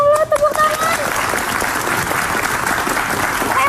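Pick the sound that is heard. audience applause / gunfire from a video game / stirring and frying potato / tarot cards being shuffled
audience applause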